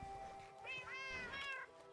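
Cat in the Minecraft video game meows clearly in a couple of drawn-out calls, close and alone with a faint background hiss.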